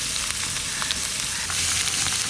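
Green chili and onion frying in hot oil with cumin seeds and bay leaf, a loud, steady close-up sizzle with faint crackles and no talking.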